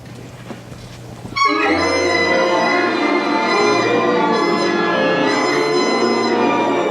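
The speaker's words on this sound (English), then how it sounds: "the band was finally ready to put their instruments together and play their first note as a real band." A beginner school band at a winter concert sounds its first note together: after a quiet, murmuring room, a sudden loud, sustained chord of many instruments swells in and holds steadily for several seconds.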